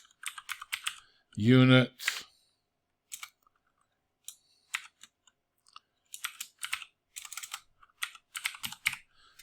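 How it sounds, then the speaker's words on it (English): Bursts of typing on a computer keyboard in quick irregular runs, close and clear, with one brief louder scrape near the start; someone talks intermittently between the keystrokes. "even if I start to try and type, there we go"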